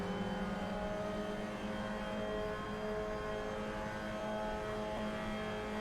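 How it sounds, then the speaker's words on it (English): A propeller airplane towing a banner drones overhead in the racing game Assetto Corsa, a steady mid-loud engine hum with sustained tonal whine that holds evenly throughout, with no talking. "Why is there an aeroplane carrying a banner behind us?"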